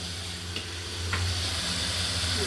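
Meat cooking in crushed spice masala with tomato paste sizzles steadily and close, with a couple of brief scraping stirs in a short stretch.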